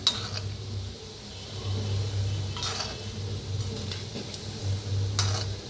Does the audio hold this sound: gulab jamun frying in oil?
yes